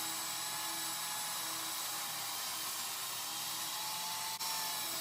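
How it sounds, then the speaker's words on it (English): A table saw fitted with a new blade cuts leftover wood pieces for closet shelving, producing a loud, sustained high whine with a steady hum beneath and a brief dip near the end. "This is a new blade on that table saw, and man, it cuts good."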